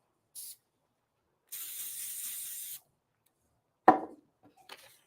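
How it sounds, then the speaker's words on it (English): A short hiss followed by a longer steady burst from a Pro Spray aerosol can lasting over a second, then a sharp knock and small clatters in a quiet room. "I'm going to use my Pro Spray."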